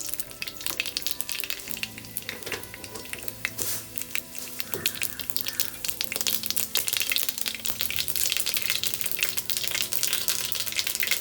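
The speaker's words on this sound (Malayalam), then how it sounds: "കടുക് പൊട്ടി തുടങ്ങിയിട്ടുണ്ട്" Mustard seeds splutter and pop in hot oil as tempering for a banana flower thoran, a dense, steady crackle of close sizzling that builds slightly toward the end.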